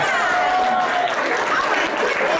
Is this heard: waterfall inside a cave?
no